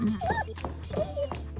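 A cartoon dog in the video game Neighbours From Hell whimpers and yips in short, rising whines across a steady low background hum, fairly close and clear.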